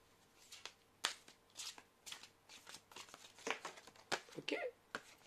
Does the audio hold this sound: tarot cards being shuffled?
yes